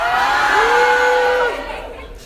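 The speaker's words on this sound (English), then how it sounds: "if you want to give him a round of applause" Audience at a Yuri!! On Ice convention panel at Megacon cheers, with a rising whoop standing out over a steady crowd roar that fades toward the end.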